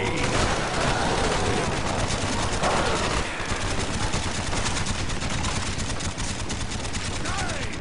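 Rapid bursts of M16 rifle fire in Black Ops 3 Zombies, loud and continuous, packed with dense in-game chaos and effects throughout.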